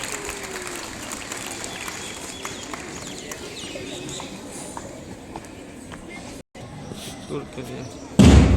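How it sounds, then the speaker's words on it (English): A school investiture ceremony audience claps steadily in a large hall, forming a continuous wash of applause with background voices, then rising to a louder burst near the end. "Please encourage them with a big round of applause."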